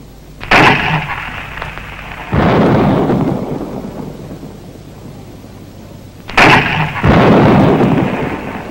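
Two heavy booming blasts of Lao Army gunfire, each followed by a long rumbling roar that slowly fades, loud and close, with no voices.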